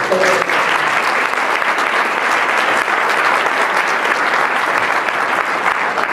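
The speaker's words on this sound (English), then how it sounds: "Let's give them a round of applause." Loud, sustained applause from a luncheon crowd at a 2013 recognition event, dense, even clapping from many people throughout, close and continuous with no clear talk.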